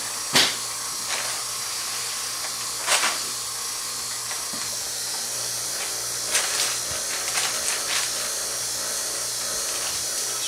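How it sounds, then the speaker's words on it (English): A vacuum pump draws down a composite beam layup under bagging in a lab, giving a steady, fairly loud hiss with a low hum beneath it and a few sharp clicks and taps scattered throughout. "Apply vacuum to this and check"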